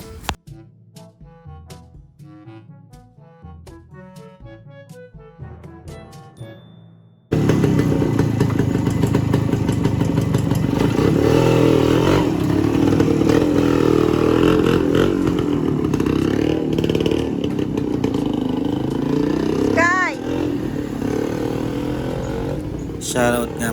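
After a few seconds of music, a Honda HD3 motorcycle engine, which hesitates on the throttle, starts and revs loudly and steadily on a test ride, with rattling and clatter throughout.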